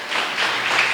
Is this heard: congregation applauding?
yes